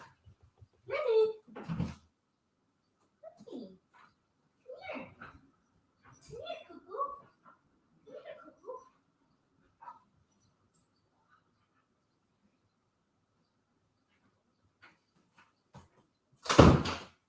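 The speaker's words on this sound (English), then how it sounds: "I hear him sniffing under the door." Dog sniffing and whimpering behind a door, several short snuffling bursts and soft whines spaced across the stretch, fairly close, ending with a loud bang or knock.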